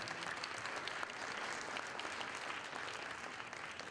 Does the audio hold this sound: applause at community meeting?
yes